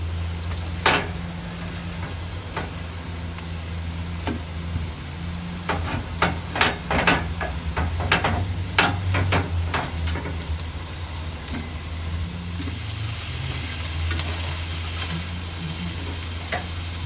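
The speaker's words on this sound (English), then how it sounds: "I love a lot of my sandwiches with a pan toasted bun." A bun toasting in a pan for a Philly cheesesteak, cooked at a truck camper: a constant close sizzle with a series of sharp taps and clicks from the pan and utensils, without speech.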